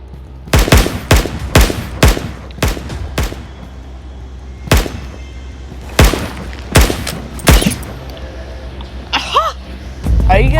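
Pistol gunfire in a video game rings out as a rapid series of sharp shots, about a dozen cracks in clusters with gaps between, loud and close over low background hum.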